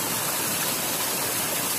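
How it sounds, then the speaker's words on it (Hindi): Continuous rushing water of a waterfall on the Kankat river in Butwal, Nepal, a dense broadband roar filling the whole short stretch with no voices. "मिस्टर सोनू नहाते हुए झरने में, बहुत बढ़िया।"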